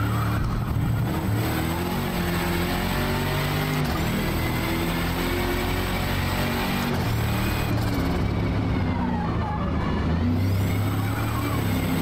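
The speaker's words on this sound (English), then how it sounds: "The turbo flutter sounds amazing." Racing car engine in Forza Motorsport with a turbocharger, loud and steady throughout, revving and shifting pitch as it drives through a corner, with turbo flutter mixed into the continuous engine roar.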